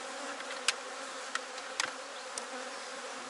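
Honeybees hum in a dense, steady drone around an open hive where the colony is strong, with a few sharp clicks and knocks rising briefly above the continuous buzz, close and moderately loud.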